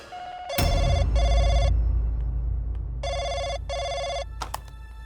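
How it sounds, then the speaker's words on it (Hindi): An old-style telephone bell rings in two pairs of loud, rapid trilling bursts separated by a pause, close by with no talking. "मानव, फोन आया मोनिका को"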